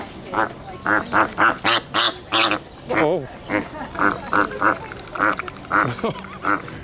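Flamingos at a zoo bird section call in a steady series of loud nasal honks, repeated rhythmically close by, while a person briefly exclaims.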